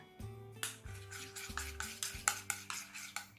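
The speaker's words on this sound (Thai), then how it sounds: "คนให้เข้ากัน" A utensil stirs microwave-melted chocolate in a bowl for cake decorating, making a steady rhythm of about eight soft scraping strokes with light clinks against the bowl. The sound is close and there is no talk.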